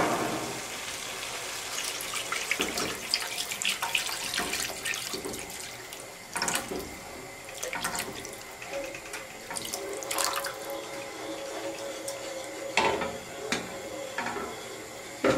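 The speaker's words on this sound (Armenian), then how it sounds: "վրայից սառը ջուր" Cold water runs from a tap into a pot of trout soup with a bay leaf, a steady hiss of pouring water broken by a few clinks and knocks of the pot, with no talk.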